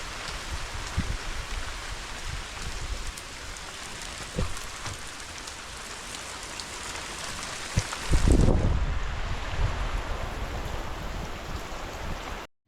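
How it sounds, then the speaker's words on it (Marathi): Steady heavy monsoon rain in Konkan hisses on surfaces throughout, with a gusty, rushing surge partway through that sounds like strong wind driving the downpour. "त्या पावसाला हवा पण आहे, जबरदस्त हवा येते आणि तेवढाच पाऊस"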